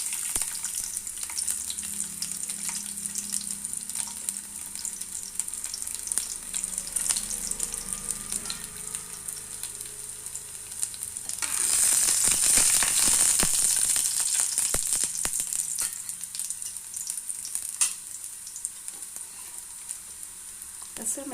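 Garlic dropped into a tablespoon of hot oil for green chilli chutney, a faint crackle that bursts into a loud, close sizzle midway and then settles to a gentler frying hiss with occasional stirring clinks.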